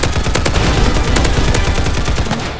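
Rapid, dense gunfire in the online shooter Roblox Hypershot, a continuous loud barrage of overlapping shots filling the whole stretch with no speech.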